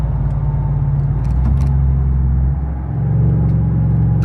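Ford Coyote V8 with a muffler delete, downshifting on the road: a loud, steady low engine drone with a brief dip in level partway through before it rises and settles again.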